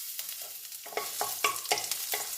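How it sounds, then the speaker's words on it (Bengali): Chopped garlic fries in hot oil in a wok (kadai), a steady close sizzle broken by several bursts of stirring and scraping at a fairly even pace. "এবারে আমি অল্প একটুখানি রসুন কুচি দেব"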